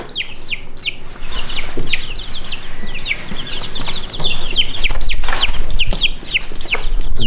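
Many Red Mottled Ancona bantam chicks peep and cluck in quick, high chirps, continuous and fairly loud and close, with no one speaking.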